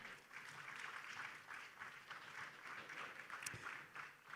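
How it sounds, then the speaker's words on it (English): An audience claps for a panel moderator at a trade forum session, a faint, even patter of applause heard from a distance, continuing steadily throughout. "a round of applause for her"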